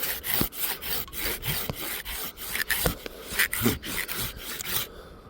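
Hand saw cutting upward into the underside of a branch while pruning a neglected apple tree, a steady run of close, rasping wooden strokes, each stroke a distinct scrape, with no talking.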